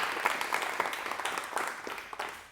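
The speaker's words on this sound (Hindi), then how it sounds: "जोरदार तालियों के बीच स्वागत है मैम" Audience applause at a special Swachh Bharat and youth event welcoming a guest: a dense, steady patter of many hands clapping together, fairly distant and even, continuing without a break.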